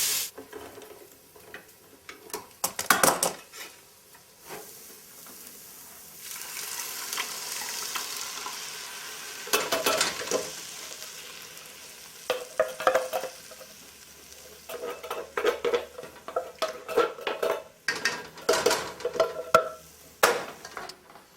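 Sliced kielbasa sausage sizzles and fries in a pan while a utensil scrapes and stirs it in intermittent bursts, close up, over a steady hiss with no talk.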